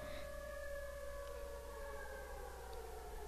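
A civil defense style siren wails in the Minecraft video game, a sustained rising and falling tone with overlapping pitches, steady and moderately distant, with no talk over it.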